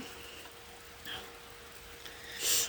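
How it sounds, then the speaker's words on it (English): Rain falls steadily outside a kitchen as a soft, faint patter, with a few brief louder drips and splashes standing out near the end. "I can stand here and look out at the rain, and I love that."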